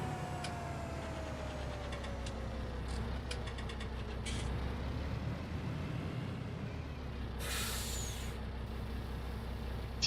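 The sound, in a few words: vehicle engine in Farming Simulator 19 video game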